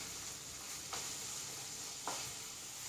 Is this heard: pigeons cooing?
no